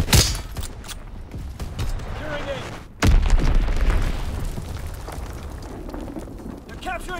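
An enemy bomb in Call of Duty WWII multiplayer goes off with a loud, sudden boom and a heavy rumbling tail, set among game noise, mechanical clatter and faint voices.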